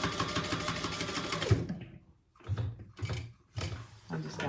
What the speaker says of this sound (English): Now, Barb, we can stitch the sides